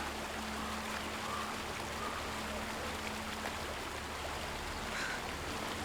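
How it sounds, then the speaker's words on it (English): Steady rushing of river water in the hunting game Blacktail, a broad, constant wash heard as if standing right over the river, with a faint low hum underneath and no voices. "It's a little bit loud here because I'm standing over the river."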